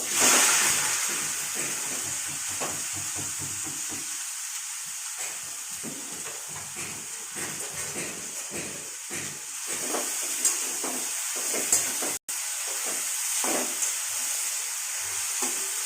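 Boiled banana stem and soaked Gobindobhog rice cooking together in a pot, a continuous hiss and sizzle with soft stirring scrapes, close and steady throughout, no talking.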